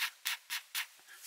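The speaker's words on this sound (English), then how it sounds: "it's just a simple matter of sanding some off" Sandpaper rubs paint off a small model WWII German jerry can in four or five short, even strokes, close and fairly quiet, with no talk.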